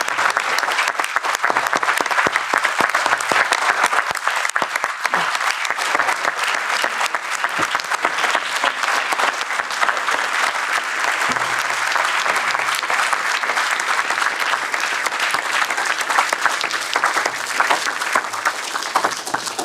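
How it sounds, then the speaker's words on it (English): A conference audience at a pandemic-treaty event gives a long, sustained round of applause, dense and even throughout with a faint crowd murmur. "So can we please give a round of applause to the people that have traveled so far to be here today?"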